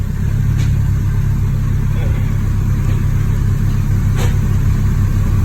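Car with a slipping, not fully engaging clutch running steadily in reverse, a loud, even engine hum with a low rumble throughout, and a voice speaking briefly over it.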